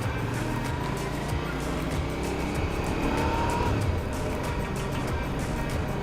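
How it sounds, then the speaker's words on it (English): Motorcycle brakes squealing on a new red SV bike, a thin high-pitched squeal running over steady road and engine noise, loud and continuous from start to finish. "Man, the brakes are squealing."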